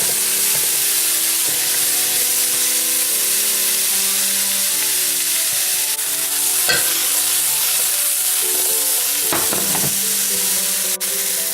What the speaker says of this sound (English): And just saute for a few minutes to get the most flavor.